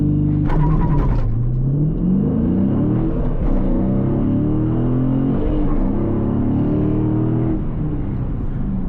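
A 2022 Dodge Challenger Scat Pack launches hard under launch control on a 0-60 run, its loud V8 roaring and climbing through repeated gear changes with a brief sharp burst at the start.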